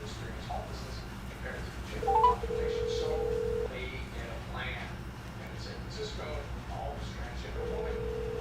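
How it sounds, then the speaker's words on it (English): A telephone being dialed to call a senator's office, with long steady keypad tones sounding over a background of quiet talk and room noise. "next we're going to be calling Rob Portman"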